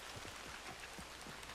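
Steady rain falling at night in Red Dead Redemption 2, a soft, even hiss of drops with faint patters, quiet and continuous with no talking.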